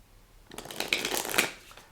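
A deck of tarot cards is riffle shuffled once, a quick soft fluttering patter that builds and then ends, close and quiet with no voices.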